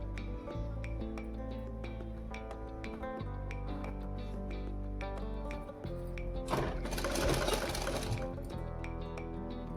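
A sewing machine stitches salwar fabric, its steady motor hum running throughout with rapid needle ticks and a louder, busier burst of stitching near the end.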